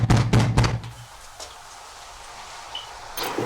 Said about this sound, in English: they approach the front door and knock